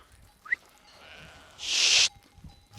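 Sheep bleating on a farm flock of about 1,500 ewes, a single loud, close, sustained bleat lasting about half a second, preceded by quieter outdoor ambience and a faint distant call.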